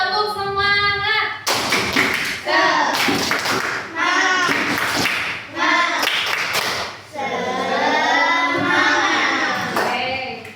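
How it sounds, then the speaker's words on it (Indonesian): A class of children claps a rhythmic spirit clap together, sharp sustained bursts of hand claps mixed with loud chanting voices in a classroom, filling the whole stretch with little pause. "tepuk semangat."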